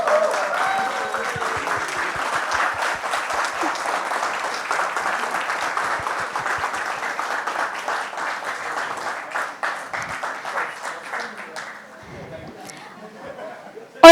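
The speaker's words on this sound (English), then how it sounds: "let's give a massive round of applause to the man of the hour, Mr. Rajan Shahi." Big audience at a celebration event for a TV show's five-year anniversary breaks into sustained loud applause with cheering and chatter, dense clapping lasting about ten seconds before fading out.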